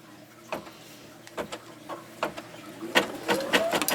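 An embroidery machine stitches fabric and Plum batting around a coaster, giving quiet irregular mechanical taps and a light whirring that builds toward the end, close by.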